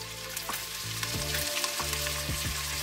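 Onions and bay leaf sizzle in a saucepan with a loud, steady frying hiss and crackle, while a spoon taps and scrapes against the pan several times at irregular intervals.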